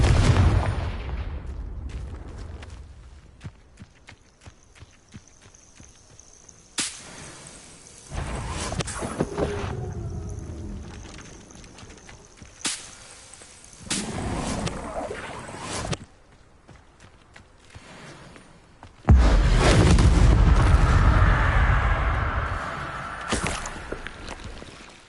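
Confringo spell explosions crack and boom repeatedly in a Harry Potter video game on PS4, several bursts spread over the stretch, with the last one the loudest and longest, set against quieter game ambience.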